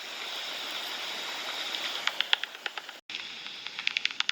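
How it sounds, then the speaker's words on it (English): A brook flows under a bridge with a steady, moderate rushing hiss. Scattered sharp clicks sit on top of it, and the sound drops out briefly partway through. "This is the brook."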